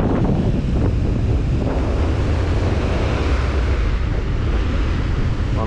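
Ocean waves roll and crash at Ramapuram beach, a loud continuous surf roar heavily mixed with wind buffeting the microphone, with no talking.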